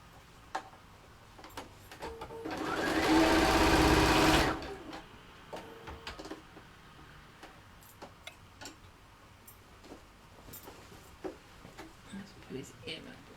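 A sewing machine stitches an ear onto an animal cushion in one loud, steady whirring burst of about two seconds, surrounded by scattered clicks and fabric handling.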